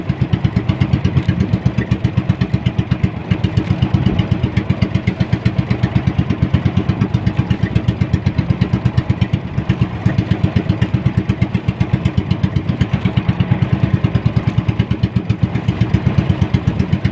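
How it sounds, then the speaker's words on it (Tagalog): A loud engine chugs steadily up close, its rapid pulsing uneven in places, as if running rough and misfiring throughout. "Ating makina nagluloko."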